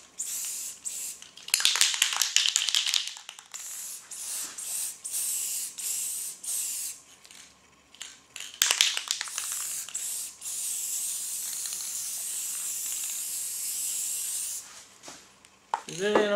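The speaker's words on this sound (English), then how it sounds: "I'm going to take my spray paint," A spray paint can mists copper paint over an epoxy table in bursts of hissing spray, some long and some short, with quiet gaps between them, close and fairly loud.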